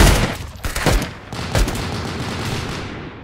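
Gunfire in the Roblox game Arsenal rings out as several loud, sharp shots in quick succession, the last blast trailing off into a reverberant tail.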